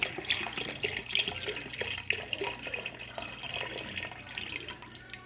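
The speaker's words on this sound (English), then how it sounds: "And I'll put the other half of this beef broth in there." Beef broth pours steadily into a pot for a beef and barley stew, a close, continuous liquid splashing and trickling with no talk.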